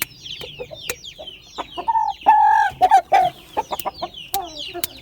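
A sick Aseel rooster kept loose clucks in short bursts and lets out a crow in the middle, close and clear, with sharp clicks and faint background noise around it.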